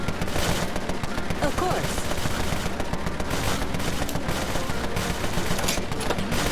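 Sustained rapid suppression gunfire in the Empire of Sin video game, a dense continuous fusillade raining on a thug, loud throughout, with a brief spoken word over it.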